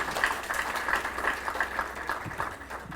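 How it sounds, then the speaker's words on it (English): Audience applause for the Fijian Minister for Education at a Lelean Memorial School celebration: steady, moderately loud clapping from a crowd that continues unbroken for a few seconds. "Give a round of applause to the minister."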